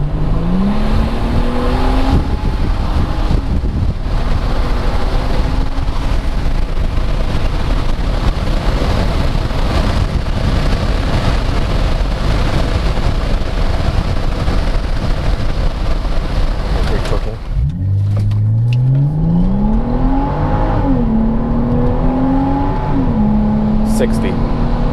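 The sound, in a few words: sports sedan accelerating in sport mode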